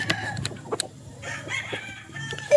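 Gamefowl rooster at a game farm, heard as short clucks and clipped crowing calls close by, scattered irregularly over farmyard background with other birds.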